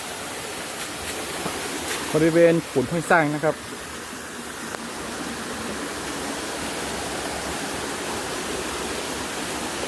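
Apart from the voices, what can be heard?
waterfall in a forest stream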